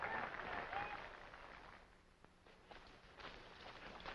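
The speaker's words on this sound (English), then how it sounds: "They're cheering now because of Barrowby won." A crowd cheers and applauds a winning Barrowby coach in a faint, distant, steady wash of clapping and voices, with a thin layer of speech over it, set in an old 1944 film.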